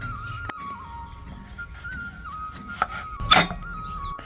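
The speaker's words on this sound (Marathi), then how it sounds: "आता कांदा कापीते" A knife chops an onion for spicy tomato laddu, giving a few sparse sharp taps on a board, with a steady thin whistling tone running faintly underneath.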